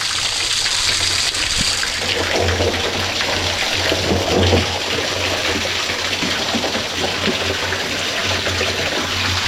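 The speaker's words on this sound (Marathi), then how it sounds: "इथे पाण्याचा झोत भाग असा व्यवस्थित पडतो आहे" A strong stream of rainwater pours down steadily into a drum during heavy rain at a house under redevelopment in Konkan, making a continuous loud gushing splash with rain noise all around and no voices.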